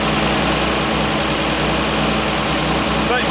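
A vintage International R-185 fire truck engine runs steadily at first start after long storage, a loud, continuous low rumble with even idle pulses throughout.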